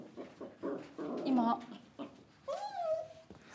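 Dogs whimpering and whining in a TV news studio, several high, wavering whines over a few seconds, close and fairly loud, with people talking throughout.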